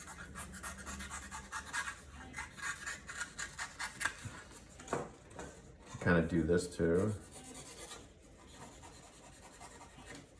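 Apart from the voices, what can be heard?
blade carving a foam core shoe sole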